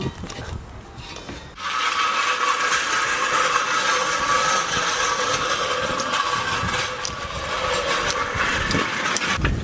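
Car engine idling through an exhaust with a large resonator, a quiet opening giving way to a sudden steady mechanical drone with a raspy, rattling texture that holds near and loud for several seconds.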